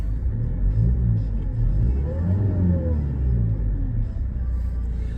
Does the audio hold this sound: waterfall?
no